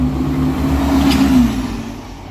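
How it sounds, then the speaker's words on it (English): A refurbished, repainted Arriva Yorkshire Halifax bus passes close by with a loud, rumbling engine note and a sustained tonal whine that fades as it moves away. "One of the refurbed and repainted Halifax buses."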